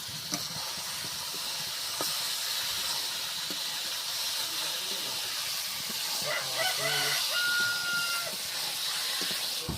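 Meat hisses and sizzles in a hot pan in a home kitchen with a steady, loud frying hiss and faint clinks, and a brief voice is heard near the middle.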